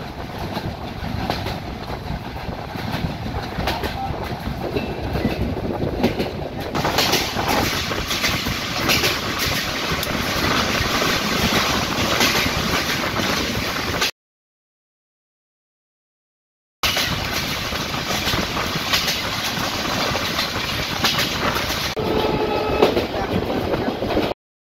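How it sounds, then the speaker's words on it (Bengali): A train runs on rails through banana plantations near Jhenaidah, Bangladesh, with a steady loud rumble and clickety-clack of the carriages that continues throughout, broken once by a few seconds of silence. "গাছপালা, বাড়িঘর সব কিছু ছেড়ে ট্রেন চলছে।"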